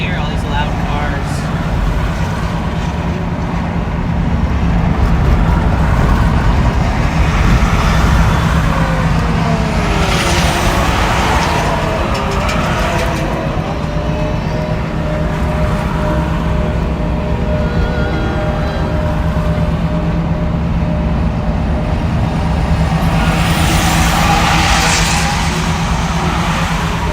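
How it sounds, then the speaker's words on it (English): Loud traffic roar with heavy vehicles passing close by, engines swelling and fading, a hiss of brakes, and a voice talking over it. "I gotta put an earplug in my left ear, all these loud cars."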